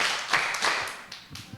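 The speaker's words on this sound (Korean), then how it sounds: "박수 3번 시작" Children at a church Sunday school service clapping on cue, a few short sharp claps in a quick group rhythm, near and moderately loud in a room.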